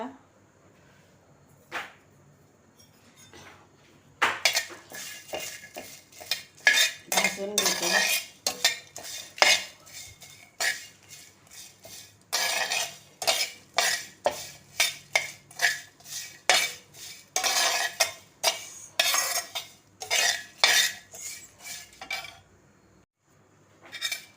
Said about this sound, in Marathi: मिरच्या लसूण आणि खोबरं आणि जिरं भाजून घेते मी